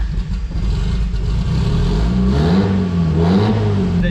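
A car engine running close up, a loud steady drone that climbs and dips as it revs.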